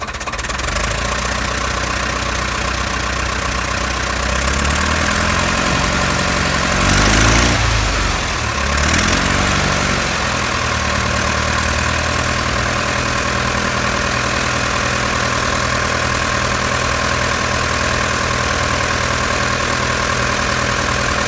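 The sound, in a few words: vintage tractor engine revving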